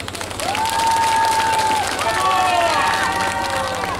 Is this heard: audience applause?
yes